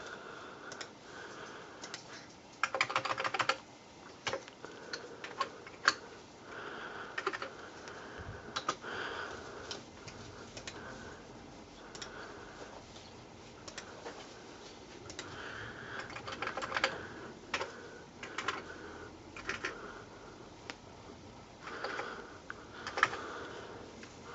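Someone types on a computer keyboard while setting up an Amiga with Classic Workbench and WHDLoad. Soft, irregular key clicks come in scattered bursts, quiet and close, with no talking.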